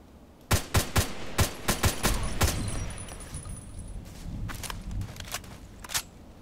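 Rifle fire from an HK417 in a video game: a rapid cluster of sharp cracks up front, then a noisy stretch and a few scattered shots that fade out.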